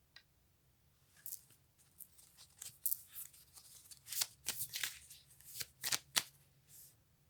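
Playing cards are shuffled repeatedly in a quiet room, a series of sharp riffling bursts and soft flicks in irregular rhythm, close and fairly quiet with no talking.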